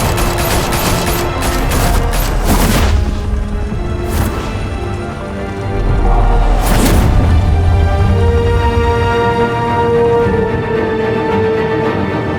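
Gunfire in Batman: The Telltale Series, several loud bursts and booms cutting through a tense musical score, with heavy hits around the third and seventh seconds.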